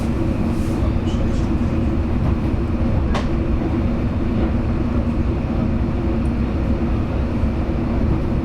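Steady loud rumble and rolling clatter inside a Mat64 "Apenkop" electric multiple unit train riding from Barneveld Zuid to Amersfoort, continuous wheel and motor noise throughout with a brief sharp squeak partway through.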